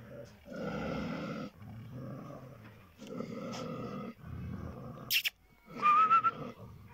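Dogs fight close up in long, rough bouts of snarling and growling separated by short pauses, with a sharp whistle and a yelping cry near the end.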